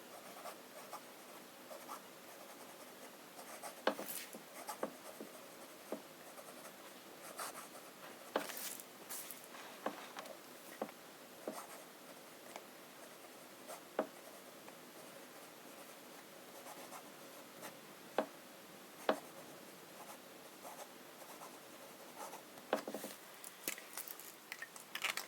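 Fine nib of a fountain pen in non-flex mode scratching across paper with red J. Herbin Rouge Hematite ink, a soft continuous rasp broken by small ticks and strokes, close and quiet with no talking.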